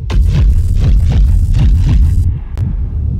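A loud, gritty synth tone in Phase Plant with a swirling flanger sweep that rises and falls repeatedly, cutting off abruptly near the end.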